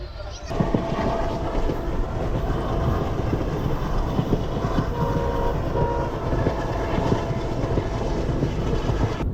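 Passenger train on a route through Tenkasi and Sengottai toward Madurai, heard as a steady, loud rumble of wheels on rails with continuous rattling carriage noise throughout, with no talk over it.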